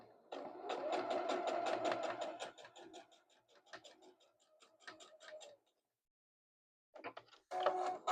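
A sewing machine stitches a quilted pouch, a fast close mechanical rattle of needle strokes that slows and thins, stops into silence, then briefly restarts in short bursts.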